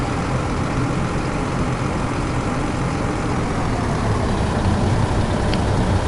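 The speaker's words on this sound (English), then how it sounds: "Move the tractor up first." A tractor engine in Professional Farming 2017 drones steadily as the vehicle moves, a constant low rumble with no pauses at an even loudness throughout.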